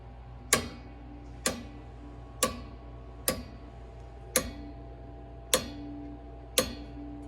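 A faulty zone valve on a home heating system gives sharp, evenly spaced clicks, about one each second, seven in all, each followed by a faint hum against a quiet background.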